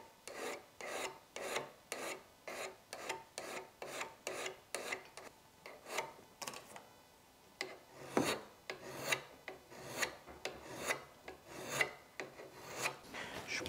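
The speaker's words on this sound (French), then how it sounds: "J'utilise des petites limes diamantées, une plate pour la partie plate, et ici une conique tout simplement." Small diamond files sharpen the bevel of a molding plane blade in a steady rhythm of short, dry rasping strokes, about two per second, close and quiet with no voices.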